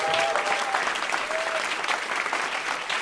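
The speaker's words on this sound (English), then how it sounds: "applause." Audience applause after a surprise guest is announced at a live stage event, a dense, steady wash of clapping at full strength throughout, with a brief tonal whistle or squeak near the start.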